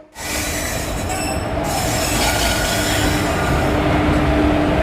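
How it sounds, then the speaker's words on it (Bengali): A train arriving at a station platform for the Digha service screeches with loud, sustained wheel squeal over a heavy rolling rumble, very close and continuous. "অবশেষে দীঘা যাওয়ার ট্রেনের খবর হয়েছে তো ট্রেনটা আসুক"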